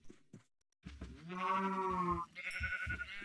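Cows lowing in the Minecraft video game during breeding, a single drawn-out, wavering moo close up and loud, with brief clicks before it and a shorter bleat-like call following.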